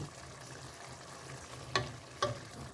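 Bacon and ground turkey fry in a pan with a quiet, steady sizzle, broken near the end by two sharp clicks or knocks of a utensil.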